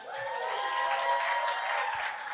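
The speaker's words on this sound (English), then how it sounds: "I know we have Macondistas here ready to cheer for their teachers" An audience at a literary arts forum for Macondo writers bursts into dense, close applause with some cheering, filling the whole brief moment at an even loudness.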